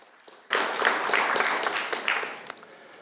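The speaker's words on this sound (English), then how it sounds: "Applaud him, please." Audience applause bursts in at a conference talk on the Nim programming language, a dense steady patter of many hands clapping from a room of listeners, fading slightly toward the end.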